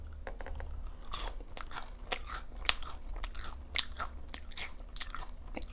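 Crunchy BBQ golden olive fried chicken being bitten and chewed up close, with repeated crisp crunches in an irregular rhythm over a steady low background hum; no talking.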